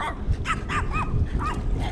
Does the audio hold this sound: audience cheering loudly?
no